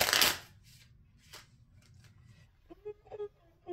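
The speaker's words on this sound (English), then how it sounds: "I just have to shuffle these cards because it's been a minute since I used this deck." A deck of cards being shuffled in one quick, loud, crisp burst of riffling, followed by near quiet with only faint soft handling sounds.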